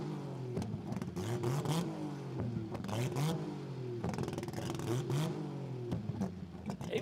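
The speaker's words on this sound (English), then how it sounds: "Listen to the RB just popping away." A car with an RB engine revving hard at a street performance event, loud rising and falling revs with crackling pops between pulses, close and dominant throughout with no talk.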